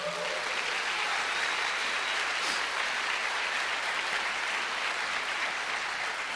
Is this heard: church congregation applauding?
yes